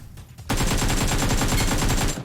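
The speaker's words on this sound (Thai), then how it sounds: "โอ้ยใครยิงเรามา" Automatic gunfire in PUBG Mobile, a loud, rapid burst of closely spaced shots that starts abruptly after a brief quiet moment and rattles on steadily for nearly two seconds.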